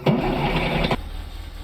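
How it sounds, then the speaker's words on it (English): School bus engine in the DayZ video game starting up: a loud burst of cranking and revving that cuts off abruptly, leaving a low steady idle hum, with no talking. "Wait till you hear the engine sound."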